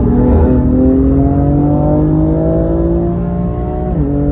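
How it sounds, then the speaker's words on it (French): A track-prepared BMW M4 on semi-slick tyres accelerates hard on a circuit, its engine droning loud and close with a steadily rising pitch, then a brief dip at a gear change, with no voices. "J'ai eu aussi l'occasion de monter dans une M4 préparée à la mort pour circuit, avec des bons pneus semi-slick bien vénères."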